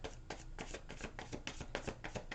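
Slippery tarot cards are shuffled by hand, a rapid series of soft riffling flutters and taps repeating in quick bursts, close and quiet with no talking.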